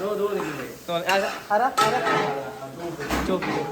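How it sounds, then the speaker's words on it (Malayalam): Food being stirred in a cooking pot, with clattering metal scrapes and knocks of a utensil against the vessel over a faint sizzle, close by, while voices talk over it. "രതീഷണ്ണൻ കിണ്ടിക്കൊണ്ടിരിക്കുകയാണ്"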